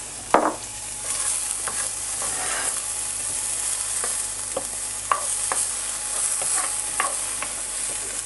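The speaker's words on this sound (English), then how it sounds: "put that in the pan and saute one large brown onion" One large brown onion sautés in extra virgin olive oil in a pan over medium heat, giving a steady close sizzle with scattered scraping stir strokes and utensil taps, no voices.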